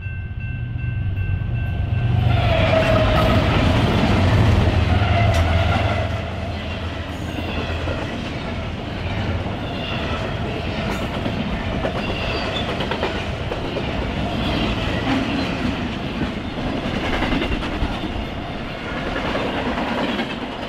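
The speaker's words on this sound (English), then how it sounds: "we caught this eastbound intermodal racing for Cicero Yard" A BNSF eastbound intermodal freight train races past near Big Rock, opening with a heavy low rumble and horn tones, then a sustained loud rolling clatter of wheels on rails, with a voice talking over it.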